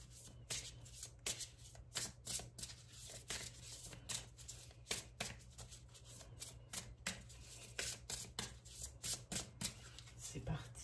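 Tarot cards shuffled in a steady series of quick riffling bursts, close and fairly soft over a low background hum.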